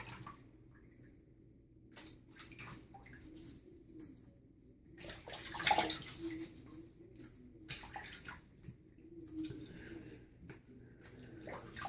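Running tap water flows and splashes softly as someone rinses off after a shave, fairly faint and uneven, with brief louder gushes.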